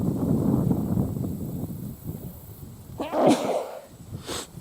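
A single sharp sneeze bursts out after a stretch of rustling through thick brush in the dark during a deer hunt, followed by a faint exhale.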